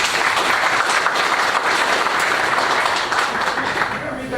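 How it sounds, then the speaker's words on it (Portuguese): Loud, close audience clapping at a legal seminar for transport workers, a thick continuous burst of many hands that eases slightly toward the end, with some voices underneath. "mais uma salva de palmas aí para todos."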